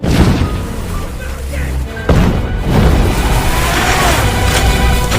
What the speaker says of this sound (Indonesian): tembakan mortir Jerman membuat ketiganya terhempas dari mobil